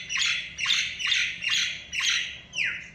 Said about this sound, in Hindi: और देखिए चिड़िया किस तरीके से बोल रहा है